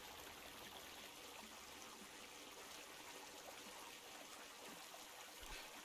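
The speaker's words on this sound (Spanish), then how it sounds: "Pero aquí un arroyo." A stream flows steadily in the video game Kingdom Come, a soft, even wash of running water heard faintly and continuously, with no voices over it.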